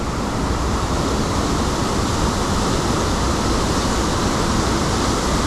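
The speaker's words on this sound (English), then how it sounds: "This is the first kind of viewing point here, which overlooks obviously the waterfall." Aira Force waterfall roars in the rain, a loud, dense, unbroken rush of falling water that fills the whole scene with no voices.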